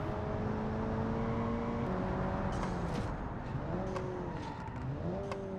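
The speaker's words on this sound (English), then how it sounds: "driving the Sandovici Torrent GSR around the automation test track for the official lap testing timing of this car" A sports car engine in the video game Automation, a late-1990s Japanese sports car lapping the test track, drones and revs steadily, pitch rising and dropping with gear shifts, continuous and moderately loud without voices.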